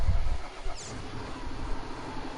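A truck engine in a farming video game runs at a steady low rumble, fairly close and continuous, with a brief higher whoosh near the start.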